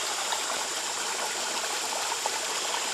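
Water from a gravity-fed water bottle trickling and splashing in a steady, soft hiss that runs unbroken throughout, close by, with no talking.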